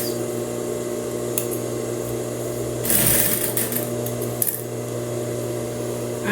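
A sewing machine backstitches on a blouse, running in a steady, close mechanical whir with a brief louder burst partway through.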